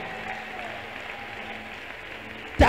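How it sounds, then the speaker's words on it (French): A church congregation applauds in a steady, moderate wash of clapping, ending abruptly in a sudden loud burst. "Applaudis, non? Clap now."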